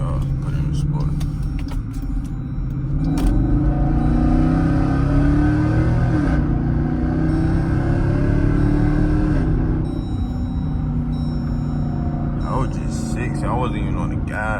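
A straight-piped 2014 Jeep Grand Cherokee Overland with a Hemi V8 accelerating hard, loud deep rumbling engine rising in pitch through gear changes, heard from inside the vehicle with someone talking over it.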